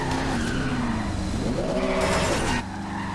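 A Cadillac Escalade drifting in a racing video game, tires skidding and squealing in long wavering screeches over a steady engine drone, no talking.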